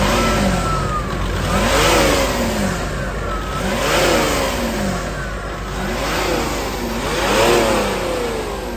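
A Peugeot 407 coupé diesel engine revs repeatedly, each rise and fall in pitch sweeping up and down in roughly two-second cycles over a steady rumble, close and loud with no talk.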